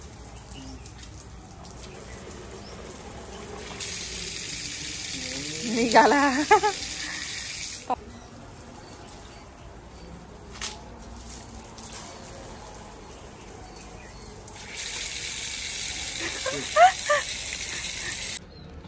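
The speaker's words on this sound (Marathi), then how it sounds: "आता पाणी द्यायचं काम सुरू आहे" Water sprays in long hissing bursts onto vegetable plants in a garden, stopping and starting, while people talk nearby between the pours.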